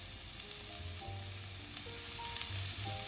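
Capsicum and softened onions sautéing in a pan over a high flame, giving a steady, close sizzle and crackle throughout.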